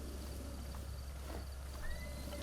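A horse in Zelda: Breath of the Wild gives a short, faint whinny near the end, preceded by soft hoof clops over a quiet, steady ambient hum.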